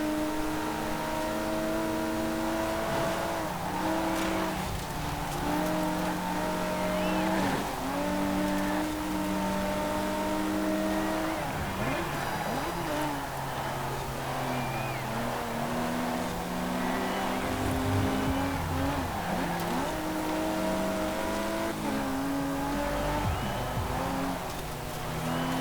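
A rear-wheel-drive car of more than 300 horsepower races through a Forza Horizon 4 seasonal championship event, its engine revving up and down through repeated gear shifts, loud and continuous, with occasional tire squeal.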